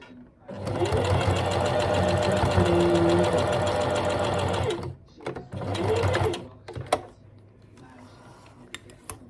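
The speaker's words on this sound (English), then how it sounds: "I just hand crank the first stitch, make sure it knows where it's going, and then nice and slow and steady" A sewing machine stitches a dart on a doll's head, running in a steady, loud mechanical whir for about five seconds, pausing briefly, then whirring again for a shorter burst before falling quiet.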